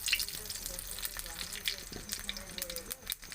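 Bay leaves and whole cumin seeds sizzling in hot oil and ghee for a jackfruit curry, a steady crackling fry with sharp pops, while someone talks over it.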